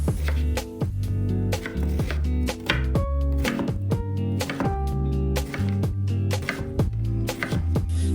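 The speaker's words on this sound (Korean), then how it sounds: "비트 반개를 채 썰어 준비해주세요" Rapid, rhythmic knife chops on a cutting board as half a beetroot is julienned, crisp repeated thunks at a steady pace, close and loud, with no talking.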